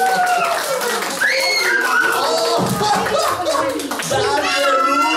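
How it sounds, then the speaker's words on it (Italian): Children's audience at a baby-parking puppet show clapping and cheering, with lively overlapping kid voices, shouts and an adult voice over the steady, close clapping throughout. "Un applauso forte!"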